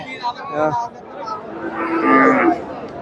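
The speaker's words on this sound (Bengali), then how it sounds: "এই যে এখানে একটা গাভী দেখতেছি" A cow moos loudly and close at a cattle market, a long groaning call following brief human voices and chatter in a busy outdoor setting.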